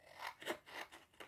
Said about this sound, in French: je prends mes ciseaux. Je découpe sur les bords.